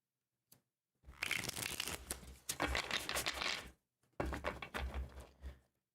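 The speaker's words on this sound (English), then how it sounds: "This is the last deck I'm shuffling" Two bursts of a tarot card deck being shuffled, close and crisp riffling flutters with a short tap beforehand, no talking.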